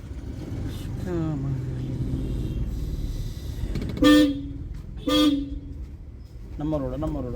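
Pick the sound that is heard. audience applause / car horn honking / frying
car horn honking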